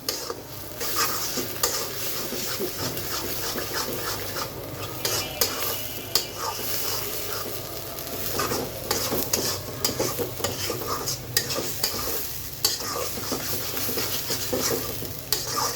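Beef brain bhuna is stirred continuously in an oily pan, with the spoon scraping and clinking against the metal over a constant sizzle, close and busy throughout.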